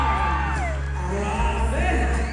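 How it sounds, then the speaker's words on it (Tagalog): At a 60th birthday party, guests whoop and cheer in a dense burst of shouting, with applause mixed into the crowd noise. "Isang masigabong na palakpan natin kasamang hiyawan!"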